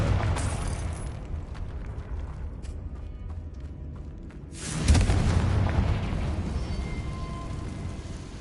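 A Confringo explosion spell in Hogwarts Legacy bursts with a loud, sudden boom that swells into a rumbling, echoing blast, following quieter creaking and clattering ambience.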